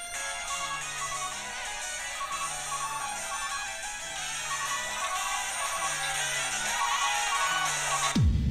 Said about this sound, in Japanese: 黒電話も鳴り出す。